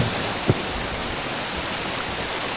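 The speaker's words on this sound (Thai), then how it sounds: "นนี้ผมขึ้นมาชั้นบนสุดของน้ำตกวังก้ามเหลืองนะครับ" Wang Kan Lueang waterfall in Thailand heard from its top tier, a steady broadband rush of flowing water that fills the whole stretch evenly, with one brief soft knock near the start and no voices.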